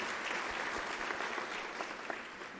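An audience at a university graduation ceremony claps continuously, a dense and fairly distant wash of hands with no break, fading slightly at the end.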